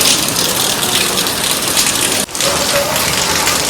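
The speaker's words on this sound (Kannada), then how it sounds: "ಫುಲ್ಲು ಮಳೆ ಸಿರ್ಸಿಲಿ." Heavy rain at the Marikamba temple in Sirsi, a loud, dense, steady hiss of downpour on surfaces, close and continuous with a brief dip midway.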